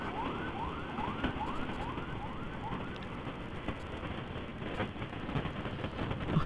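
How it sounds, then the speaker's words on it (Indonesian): A wailing ambulance siren sweeps up and down repeatedly, loud and close, over constant road and engine rumble while it rides with a police motorcycle escort heading into a hospital. "Ambulan mau masuk rumah sakit."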